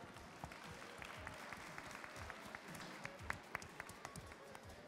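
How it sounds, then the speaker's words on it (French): A faint audience at a French cooking competition applauds a collective-catering chef, soft continuous clapping with individual sharp claps standing out, heard from a distance. "Je vous propose d'applaudir Wilfried Vadala."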